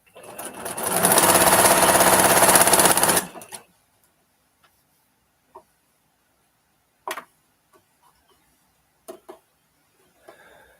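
A Juki sewing machine runs in one steady loud burst for about three seconds and then stops, followed by near silence with a few faint clicks and small handling noises.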